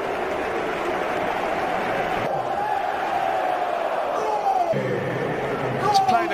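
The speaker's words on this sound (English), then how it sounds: "And taking the applause." Football stadium crowd applauding a substitute during a Real Madrid versus Chelsea Champions League match, a steady broad roar of applause and cheering filling the ground, with a loudspeaker tone and a whistle-like rise over it.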